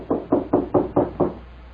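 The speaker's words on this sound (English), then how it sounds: "Who knocks?" Six even knocks rap on a wooden door at a steady pace, close and clear, followed by a short quiet.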